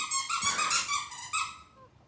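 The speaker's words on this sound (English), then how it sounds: "Can still hear the squeaky toy, yes." A squeaky toy squeaks in a rapid, continuous series of shrill, high-pitched squeaks lasting under two seconds, fairly soft and alone.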